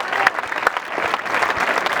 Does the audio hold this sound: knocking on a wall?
no